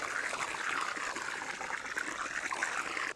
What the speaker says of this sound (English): I do add fresh water each time, obviously. Plus it helps stir it up.